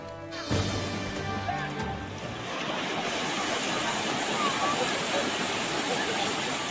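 Swollen, rushing river in Nueva Vizcaya where farmers carry crops across, a loud broadband roar of churning water that fills the scene continuously after a brief opening of voices.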